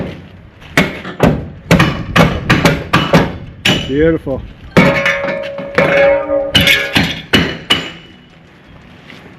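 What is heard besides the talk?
hatchet hammered to drive off stripped screws in bus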